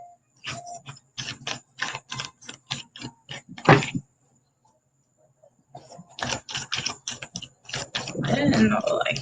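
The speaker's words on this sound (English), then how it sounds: "Let's give it a little shuffle and see if we get something else." A tarot deck is shuffled by hand in quick, crisp riffling clicks. Two close bursts are split by a short pause, and a rustling swell of handling noise follows at the end.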